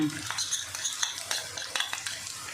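Fried onion, garlic and ginger stirred in a pan with cumin and coriander powder over low gas, a spoon scraping in steady, close strokes over a soft sizzle.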